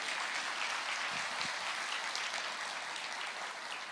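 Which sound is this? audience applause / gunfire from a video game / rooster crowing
audience applause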